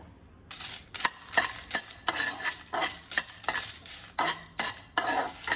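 Red chilies fry over a low flame for sesame seed powder, with a brisk series of sharp metal spatula scrapes and clacks against the pan over a soft sizzle, close and rhythmic.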